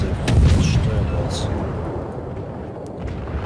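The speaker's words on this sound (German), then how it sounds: "Steuerbord und alle vier Kanonen auf einmal kommen." Warship cannons in World of Warships fire a starboard broadside in a heavy, booming volley near the start that rolls off into a rumbling decay.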